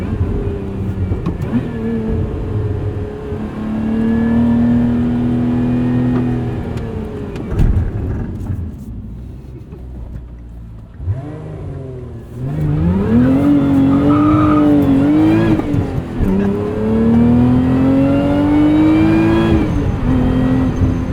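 A 2024 Lotus Emira sports car with a six-speed manual revs hard, its engine pitch climbing in repeated surges as it accelerates, with a brief quieter lull midway; loud and close, no talking.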